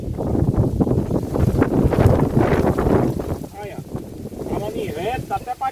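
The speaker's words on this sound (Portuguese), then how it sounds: "mas vento é bom, esfriar o ambiente," Wind gusts under a tree beside a chicken coop, a steady rushing roar buffeting the microphone, heavy and close throughout, with people talking over it.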